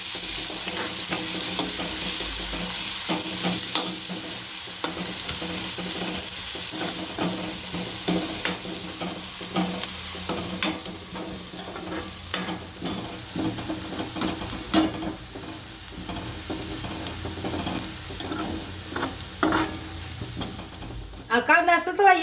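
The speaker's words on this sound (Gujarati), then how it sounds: "હવે આપણે આ સફેદ કાંદા તેલ નાખી દઈશું." White onions fry in hot oil in a pan while being stirred. A steady sizzle runs under repeated spoon scrapes and clinks, and the frying gradually eases toward the end.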